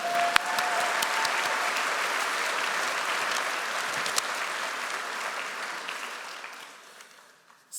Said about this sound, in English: So if you could give them another round of applause.